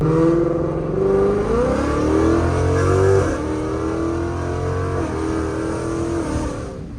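A loud Ford Mustang GT 5.0 V8 revs hard while driving, a deep throaty roar climbing in pitch, then easing into a steady rumbling cruise, close and dominant with no talk.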